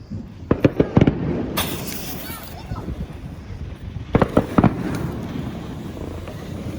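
A Red Apple Fireworks Fire and Ice fountain, a safe-and-sane ground firework, crackles and pops in two bursts of sharp snaps over a steady hiss, with voices nearby.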